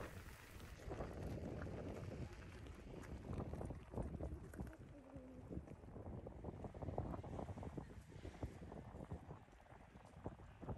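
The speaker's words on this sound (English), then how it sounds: "It is also really windy." Strong wind buffets the microphone in the rainy Scottish Highlands among mountains and clouds, a steady loud roar with gusting surges throughout.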